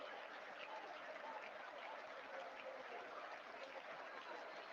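Faint, steady applause from an audience at a political address, a continuous wash of many hands clapping with no voices over it.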